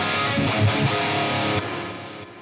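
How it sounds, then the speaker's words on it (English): Distorted electric guitar chords with a crunchy, effect-laden Line 6 Helix wet crunch tone, strummed a few times and left to ring, with a faint background hiss. "Here's the wet crunch"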